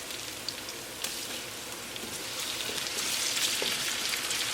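Cumin, ginger and garlic sizzle with onion in a hot pan, a steady broad crackling hiss with scattered pops that grows a little louder toward the end.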